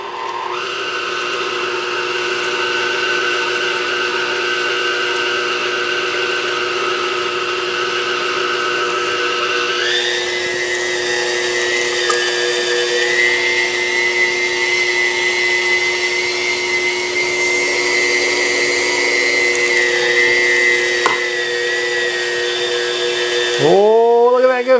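A meat grinder churns chilled meat for burgers with a loud, steady motor whine that shifts pitch partway through and runs continuously, ending with a brief clatter.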